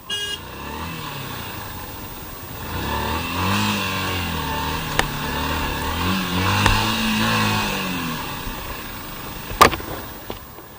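A motorcycle engine revs while off-roading, rising and falling in pitch through several throttle surges, fairly close and steady, with a few sharp knocks and clatters breaking in near the end.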